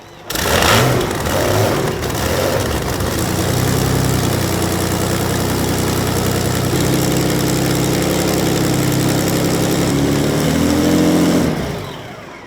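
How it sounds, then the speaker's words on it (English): A loud boat engine fires up with a sharp burst, then settles into a steady, heavy rumbling idle that runs continuously before cutting off near the end. "They're going to start up the engine. It's going to be loud."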